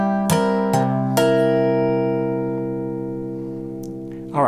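A guitar plays a Delta blues rhythm figure with frailing: three quick struck chords, then a held chord ringing and slowly fading, before a voice starts talking at the very end.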